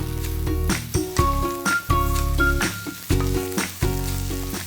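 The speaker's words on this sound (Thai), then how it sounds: "มะเขือม่วงนะครับเราจะผัดให้สุกและนุ่มดีใช้เวลาอยู่ที่ประมาณ 7-8 นาทีครับ" Steady sizzling and scraping of eggplant being stir-fried in a hot pan, with rhythmic stirring under light background music.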